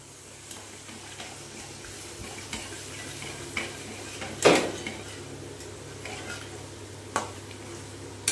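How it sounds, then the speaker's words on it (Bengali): Chicken masala with whisked yogurt and cashew, poppy seed and melon seed paste is stirred in a pan, soft low sizzling under intermittent spoon scrapes and clinks against the pot, one sharper knock midway. "এবার দইটা দিয়ে ভালো করে কষে নেব"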